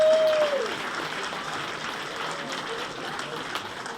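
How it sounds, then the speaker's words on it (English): Steady applause from an audience at a sports wall of fame induction ceremony, a dense even wash of clapping that holds for several seconds, with a brief tone near the start. "So you need to clap for them."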